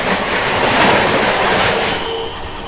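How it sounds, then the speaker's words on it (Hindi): A Lucknow Tejas Express train rushes past at speed, a loud, steady wash of rumbling wheel and wind noise that fades slightly toward the end, with no talking. "क्या तेज निकली है तेजस एक्सप्रेस"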